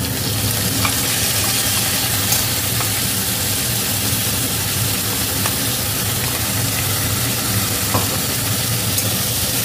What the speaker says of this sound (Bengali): টমেটো, আদা আর কাঁচা লঙ্কার পেস্টটা দিয়ে দিচ্ছি এর মধ্যে